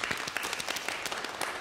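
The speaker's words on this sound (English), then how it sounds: "can everyone get their hands ready to clap?" An audience applauds at a morning concert, a dense, steady patter of many hands clapping together at moderate volume, with no voices over it.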